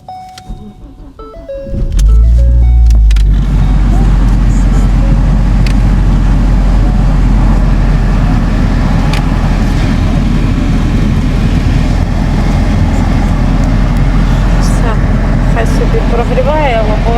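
Car engine started on a winter day and left idling to warm up: after a short crank it settles into a steady, loud, low rumble. A person talks over it at the start.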